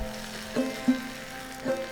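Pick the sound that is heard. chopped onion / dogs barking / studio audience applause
chopped onion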